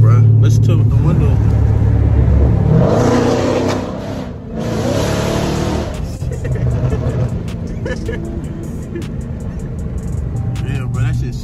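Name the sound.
Dodge Hellcat engine revving loudly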